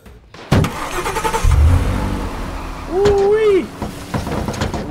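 A police car in the Roblox game Aftermath, with a door thud and a game engine revving up and pulling away, a rising engine whine over speech.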